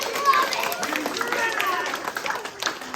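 A group of children at a library science show clapping for a classmate, a burst of scattered, uneven clapping with excited voices mixed in, moderately close and lasting a few seconds.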